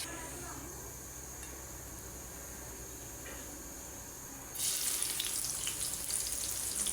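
Chopped onion dropped into hot oil for a Bengali pabda fish curry with brinjal: a faint low background hum, then a sudden loud burst of sizzling that holds steady through the final seconds.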